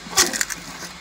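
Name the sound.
cone log splitter splitting wood with engine stopped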